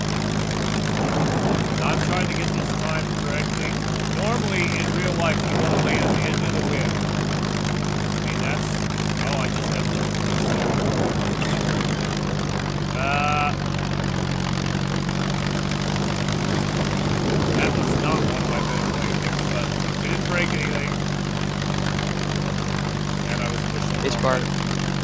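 Propeller airplane in the survival game SCUM coming in to land on a short bush-style runway, a steady droning engine hum running throughout at moderate loudness, with someone talking over it.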